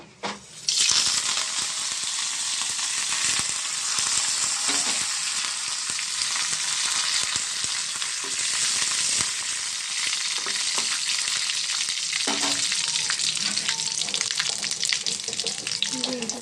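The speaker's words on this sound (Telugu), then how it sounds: "కొంచెం నూనె వేసాను మూకుడు పెట్టి. దాంట్లోకి జీలకర్ర, ఆవాలు, కరివేపాకు, ఎండుమిర్చి" Cumin, mustard seeds, curry leaves and dried red chilies fry in hot oil in a wok, giving a loud, steady sizzle and crackle that runs throughout, with a few stirring scrapes.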